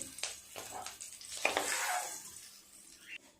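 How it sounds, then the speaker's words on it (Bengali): Vegetables go into hot oil left over from frying fish, giving a soft sizzle broken by several quick scraping stirs of a spatula in the pan, fairly quiet and without speech. "এই তেলেই আগে সবজিগুলো ভেজে নেব।"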